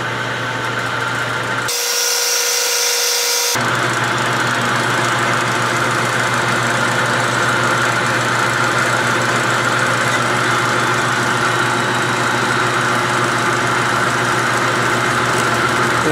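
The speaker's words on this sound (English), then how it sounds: "That's a parting tool there." A metal lathe parts off a steel workpiece with a parting tool, a steady close mechanical hum with a low drone that continues evenly throughout.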